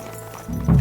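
A horse in the medieval video game Kingdom Come: Deliverance II, its hooves clopping close by and growing heavier toward the end, with a low snort or whinny mixed in.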